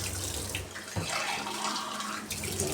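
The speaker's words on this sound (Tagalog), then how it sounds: "Ito naman maghugas tayo. Kunting hugasan lang." Tap water runs steadily into a sink during washing, a continuous close splash with a few knocks and shifts as things are rinsed under the stream.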